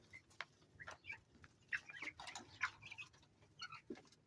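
Meat chickens inside a coop give soft, scattered clucks and short chirps, irregular and fairly quiet, with small shuffling sounds between calls.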